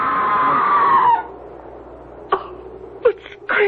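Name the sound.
scream in a radio drama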